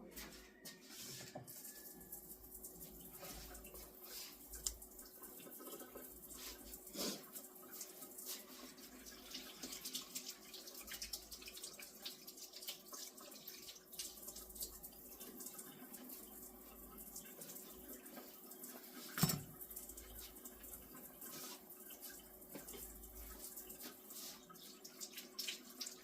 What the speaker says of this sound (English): I need to rinse these off real quick.